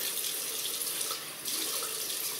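A bathroom tap runs steadily into a sink as water is splashed on a face before a wet shave, a soft continuous hiss with a brief dip midway.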